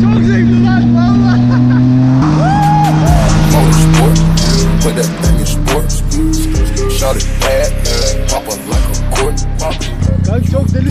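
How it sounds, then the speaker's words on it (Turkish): A Yamaha MT-09 motorcycle is ridden on a wheelie along the road; its loud engine revs and shifts pitch through gear changes, with steady wind rush and brief dips in power. "Şimdi bu yollarda motorla tek teker yapıyoruz."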